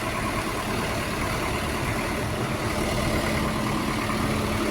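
A Solis 105 tractor engine runs steadily at a test yard, a continuous moderate mechanical drone with no speech over it.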